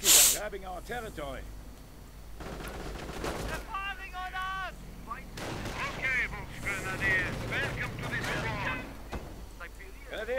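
Rapid gunfire bursts from an Ostwind flak tank firing on riflemen in a real-time strategy battle game, crackling amid other battle noise while a commentator talks over the action.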